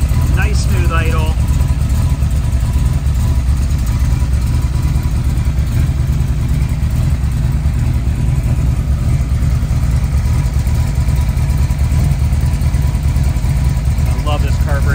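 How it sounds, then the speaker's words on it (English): A 1932 Ford engine with a carburetor idles steadily with a low, even rumble throughout, loud and close, with no other sounds standing out. "Nice smooth idle."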